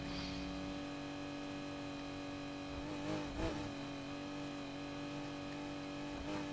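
Car engine in a racing video game, a steady droning whine with sustained tones, rising slightly in a few brief swells, fairly quiet and continuous with no voices.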